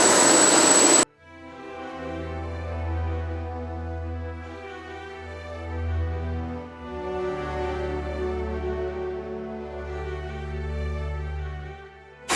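A helicopter flies over Fox Glacier, its engine and rotor giving a steady, loud drone with strong harmonic tones that swell and ease slightly throughout, preceded by a short burst of noise at the start.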